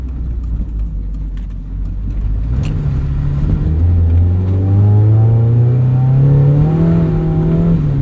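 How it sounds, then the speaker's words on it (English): A Mazda Miata drives over rough, bumpy road in winter, its mid-pitched engine droning steadily and rising as it revs through a low gear, close and continuous with no talk. "Let's go on something a little bit rougher, show you how the suspension reacts over some bumps"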